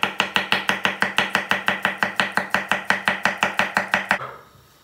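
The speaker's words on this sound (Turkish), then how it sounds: "Hemen soğanlarını doğrayacağız." A knife chops onions into large pieces on a board, about twenty-two even, quick strokes in a steady rhythm, close and crisp. It stops abruptly at the end, with no talking.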